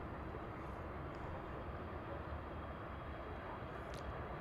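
A Boeing 737-800 airliner departs DFW International Airport, its engine roar a faint, steady rumble heard from a distance, with no talk.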